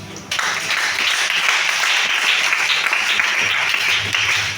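A church congregation at a Sunday worship service in Libreville, Gabon, applauding with steady, dense clapping that holds loud and even throughout, with no talking.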